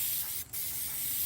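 Krylon spray paint hisses from an aerosol can onto a truck in a continuous close spray, with one very brief pause partway through.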